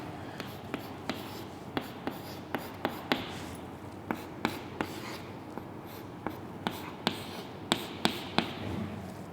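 Chalk or marker writing on a board during a chemistry lesson, a steady scratchy stroking broken by sharp taps at regular intervals, close and fairly quiet with no talking.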